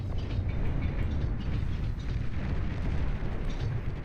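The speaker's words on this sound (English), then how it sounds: "Gonna start napalm bombing the geothermal over here," Napalm bombs striking an advanced geothermal structure in the strategy game Beyond All Reason, a steady, dense low roar of fire and blasts rumbling continuously without pause.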